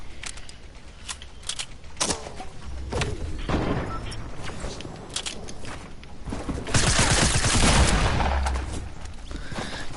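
Rapid SMG gunfire in Fortnite on PS4, with bursts of broadband shots crackling through a busy game mix, growing louder and denser toward the end.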